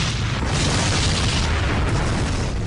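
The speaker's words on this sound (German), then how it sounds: "Der Flug TWA 800 explodiert in einem gewaltigen Feuerball." Explosion of the TWA Flight 800 airliner shortly after leaving JFK airport bound for Paris, rendered as a loud, sustained rumbling boom that roars continuously without pause.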